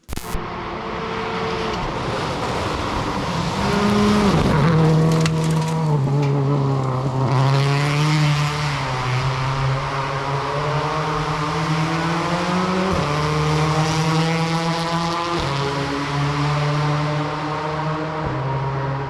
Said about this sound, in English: He was on the limiter in fifth in top gear for quite some time.